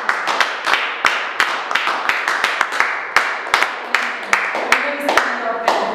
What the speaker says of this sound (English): Let us give a clap.